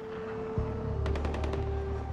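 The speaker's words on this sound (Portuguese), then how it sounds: "Caralho, tá rolando tiroteio ali, ó." Bursts of distant gunfire in the video game Far Cry 4, a quick rapid run of shots about a second long heard over a steady low game ambience and drone.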